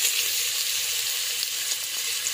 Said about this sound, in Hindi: अब मैं इसमें ये सारे जो बीफ के फिले थे वो मैं इसमें डाल दूँगी